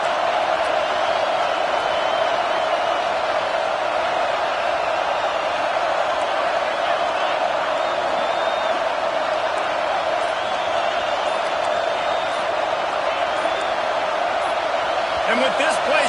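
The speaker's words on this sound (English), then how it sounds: "with this place rocking, the crowd forces a false start" A loud stadium crowd roars steadily at a college football game between Oklahoma State and Texas A&M, a dense sustained wall of noise with a commentator talking over it.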